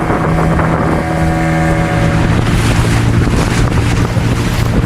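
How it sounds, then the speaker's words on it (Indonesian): Strong sea waves heard from a small boat off Tanjung Kayubatu, Jayapura, with a steady droning motor underneath and heavy wind buffeting the microphone, loud and continuous throughout. "Oh, ombaknya keras guys."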